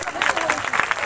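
A congregation claps during a Sunday healing service in a church, a short burst of brisk, uneven applause with a voice mixed in under the clapping.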